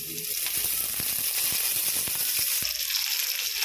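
Curry leaves sizzle and crackle in hot oil in a frying pan during South Indian home cooking, a steady loud frying hiss with scattered pops.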